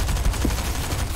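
Shotgun fire in the Fortnite video game, a dense burst of loud blasts packed into about a second, with constant low rumble and no voices over it.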